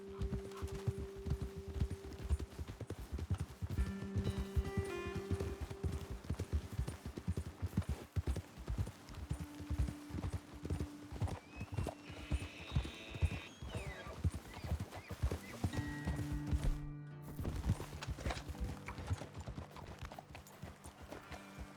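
Horses in Red Dead Redemption 2 clip-clopping steadily along a trail, with a whinny or two amid the close, rhythmic hoofbeats.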